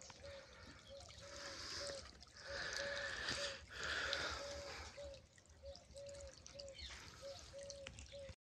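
Water dribbles and drips steadily into a bed of vegetable plants during garden watering, a close, continuous trickle with a regular dripping pulse, brief louder splashy stretches, and no talking over it.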